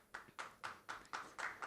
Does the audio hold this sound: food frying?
no